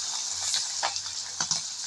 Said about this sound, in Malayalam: നമുക്ക് ഉണക്ക മറിച്ചിടാട്ടോ